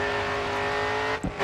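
Racing car engine in the video game Grid 2 held at full throttle, a loud steady roar with a constant pitch and a brief dip and surge near the end, with no voices.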